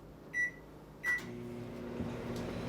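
Microwave oven heating puppy chow in a glass bowl, two short beeps of the keypad, then the steady low hum of the oven running.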